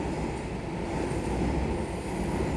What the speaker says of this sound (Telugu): ఇది మెట్రో అండి